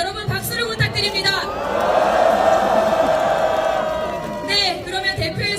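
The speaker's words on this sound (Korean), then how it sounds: "여러분, 박수를 부탁드립니다." A large crowd at a candlelight rally in front of the National Assembly main building cheers and shouts in a sustained, swelling roar, with a voice over a loudspeaker speaking before and after it.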